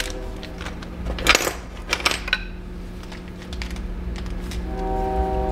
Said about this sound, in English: Little screws.